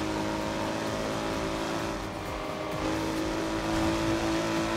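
Retro saloon car engine revving hard in Forza Horizon 2, a steady loud drone with harmonic engine tones that shift in pitch as the revs rise and fall, continuous throughout with no talk.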